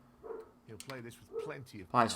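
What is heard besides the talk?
dog barking in the background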